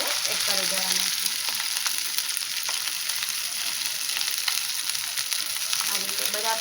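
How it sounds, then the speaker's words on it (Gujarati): Cooked rice stirred into a sizzling cumin tempering in a pan, a steady loud sizzle with soft scraping stir strokes throughout and no talk. "આ રીતે બધા ભાત આપણે કરી દઈશું અને આ રીતે એને હલાવવાનું."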